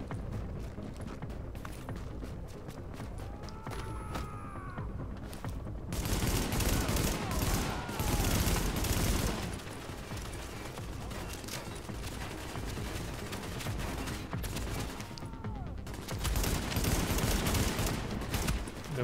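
Rapid bursts of automatic gunfire in the video game The Division, dense and loud over constant background noise, with heavier stretches of shooting and a few whistling ricochet-like tones, and a player talking over parts of it.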